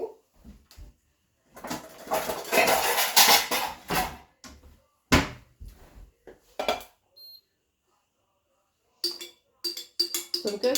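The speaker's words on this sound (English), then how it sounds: "So I'm going to start with scraping what I can out of the jar." Sourdough starter being scraped out of a nearly empty jar with a utensil, scattered clinks and scrapes of metal against glass in bursts separated by quiet pauses.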